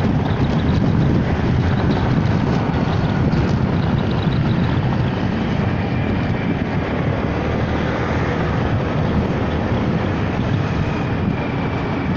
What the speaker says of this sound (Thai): ได้ยินเสียงลมกันไหม